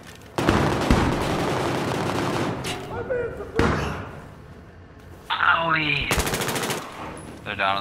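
Video game gunfire: loud, close bursts of rapid automatic fire in several volleys, separated by quieter gaps with thuds, while players talk over it.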